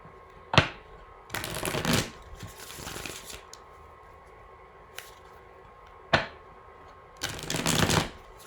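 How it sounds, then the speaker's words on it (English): Tarot cards are riffled and shuffled by hand in two bursts, each a soft flick followed by a longer crisp fluttering run, close and clear with faint tapping between. "Get 2 or 3 more shuffles."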